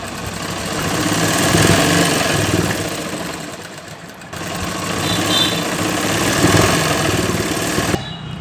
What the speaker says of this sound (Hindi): फर्स्ट हम इस कपड़े की सिलाई कर रहे हैं